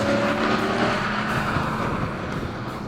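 A Dodge Charger SRT four-door muscle car's engine roars steadily while cornering hard, a loud, sustained drone heard from inside the car with no talk over it.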